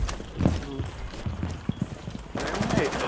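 Gunfire in the Rainbow Six Siege video game comes as bursts of rapid shots and sharp cracks under in-game effects, with a player talking over the action.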